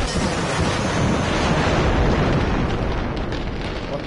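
An explosion in the Generation Zero video game, a loud, sustained rumbling roar of broadband noise that swells and holds for several seconds before easing slightly, with no speech over it.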